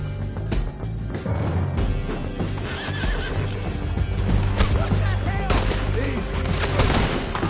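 Horses in Red Dead Redemption 2 neighing and whinnying amid galloping hoofbeats on a canyon ride, loud and close, mixed with bursts of gunfire and brief shouted voices.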